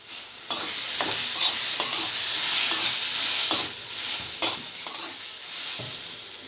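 Oil sizzles loudly and continuously in a pan while food is stirred, with sharp scraping clicks of the utensil recurring every second or so, close and with no talk.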